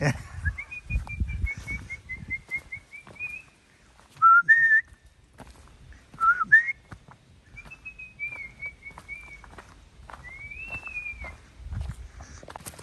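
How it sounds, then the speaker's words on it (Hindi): Birds call along the Breakneck Ridge hiking trail in New York: a series of clear, whistled notes, some sustained and some short, rising twice, heard at moderate distance over faint footsteps and outdoor background. "ये चिड़िया का आवाज है"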